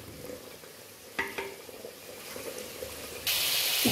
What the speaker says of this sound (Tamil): தேங்காவும் சேர்த்து இது கொதிக்க ஆரம்பிச்சிச்சு இல்லையா